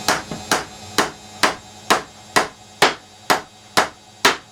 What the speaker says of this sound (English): you're in a position now to drive that nail in